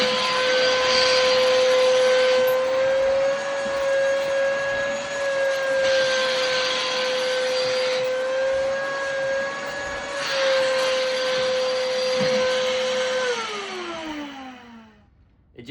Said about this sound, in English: you vacuum all the water off